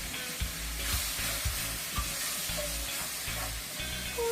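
Rosemary being stirred into a frying beef mixture in a pan, with a steady close sizzle and soft scraping stir strokes repeating about every half second.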